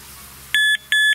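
A carp fishing bite alarm gives two loud electronic beeps in quick succession, sharp and close against a quiet background, with no talking.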